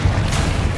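A Confringo blasting spell explodes in the Hogwarts Legacy video game, giving a short, sustained, booming rumble at steady loudness with no pause.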